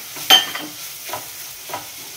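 Semolina being stirred into softened, cooked banana in a pan, with a few soft scraping strokes and light sizzling spread over a couple of seconds, close and fairly quiet, with no voices.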